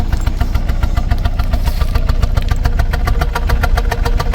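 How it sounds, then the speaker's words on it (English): A car engine idles with a misfire, a steady low rumble broken by a rough, uneven pulsing beat. It is loud and close throughout, and no one speaks. "this is what it sounds like when a car or truck has a clear misfire"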